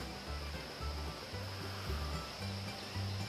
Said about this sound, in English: The river is just up ahead there.